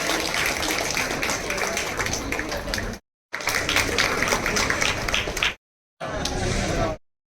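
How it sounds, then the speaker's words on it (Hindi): A crowd claps for a guest at a Diwali ration kit distribution, a dense, sustained wash of applause in three long bursts separated by abrupt silent breaks, with voices mixed in. "जोरदार तालियां हो जाए उनके लिए।"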